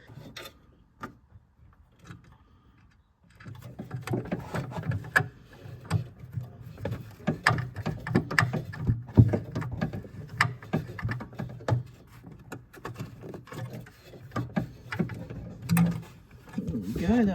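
Screws being driven in to mount a bilge pump bracket on a boat, with repeated whirring, clicking mechanical bursts in an uneven rhythm, fairly close and moderately loud.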